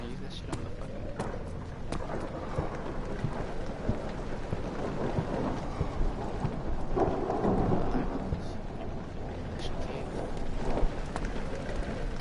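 Steady rain and rolling thunder from the video game Amnesia: The Dark Descent, a dense continuous downpour with low rumbles swelling midway, while a voice talks over it.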